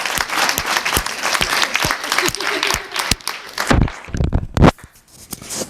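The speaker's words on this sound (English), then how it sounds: "How about a little round of applause for all of you for coming here tonight?" Audience applause at an evening class showcase event, a dense burst of clapping from a crowd with sharp individual claps standing out, thinning toward the end.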